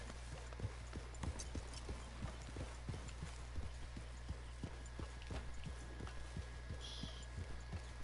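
Horse hooves clop in a steady, even rhythm on hard ground, fairly quiet and a little distant, over a low steady hum with no talking.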